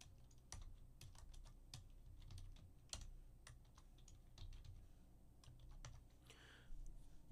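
Someone types on a computer keyboard in quick, irregular bursts of light clicky keystrokes with short pauses between them, fairly close and quiet, with no talking.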